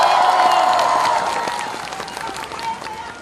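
Applause from a crowd at a Daejeon presidential campaign rally, dense clapping mixed with some cheering that starts loud and slowly thins out over a few seconds.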